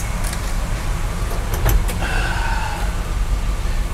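A 1965 Chevrolet C-10 two-wheel-drive pickup with a three-speed gearbox rolling along a dirt road, with a steady cabin rumble, road noise and a few brief rattles and clicks.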